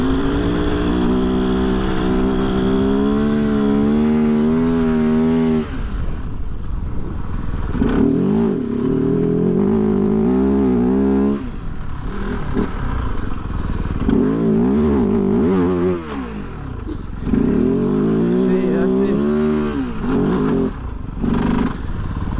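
A 2023 Kove FSE 450R rally motorcycle ridden hard, its engine loud and close, rising and falling through repeated revs and gear changes over wind rush, with no talking.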